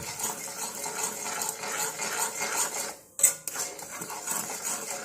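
A spoon scrapes and clinks against a bowl while stirring roasted black cumin powder mixed with liquid for a homemade hair dye, with soft repeated scraping and one brief metallic knock.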